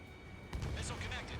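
A missile strikes its target in the underwater combat game freeDive, a sudden booming impact that rumbles on briefly while someone talks over it.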